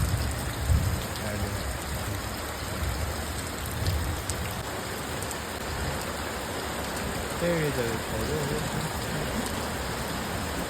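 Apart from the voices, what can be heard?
first rain falling in Botad village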